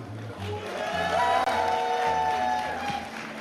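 A large crowd cheers and claps continuously at BlizzCon 2014 during a Hearthstone arena segment, loud and sustained, with scattered whoops and voices mixed into the roar.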